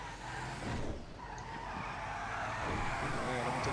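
A car drifts in GTA V with a sustained tire skid under a steady engine roar, loud and close throughout.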